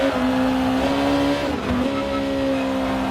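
A GT Sport race car engine holds a steady high drone in second gear, briefly dipping as the revs shift midway before settling back into a constant, loud whine.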